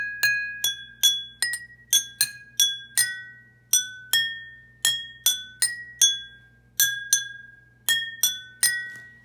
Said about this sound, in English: we are just going to make the musical sounds by tapping with a spoon